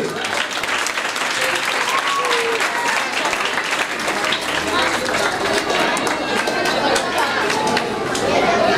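Sustained applause from a school event audience welcoming the principal, steady dense clapping with crowd chatter mixed in, loud and continuous throughout.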